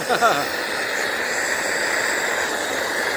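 A restored Primus 70 camp stove burns with a steady, close hiss while boiling water, holding constant throughout, with a brief voice at the start.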